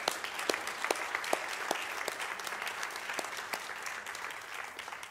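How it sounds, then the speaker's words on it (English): A church congregation applauds the fathers at a service, a steady wash of many hands clapping at moderate distance that holds throughout without any voices on top. "Let's give a round of applause to our fathers"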